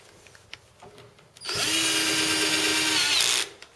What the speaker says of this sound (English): tighten it up with my drill